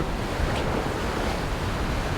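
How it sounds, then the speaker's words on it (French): Steady wind roars across open sea around a sailboat on a solo transatlantic crossing, mixed with a constant rush of water along the hull, close and unbroken with no voices. "depuis une demi-heure, le vent est de nouveau rentré"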